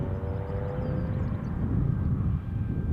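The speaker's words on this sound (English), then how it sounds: "a Loganair from Exeter, Embraer 145" Loganair Embraer 145 regional jet from Exeter at Newcastle airport, a steady distant engine roar with a faint whine, heard alone under light wind.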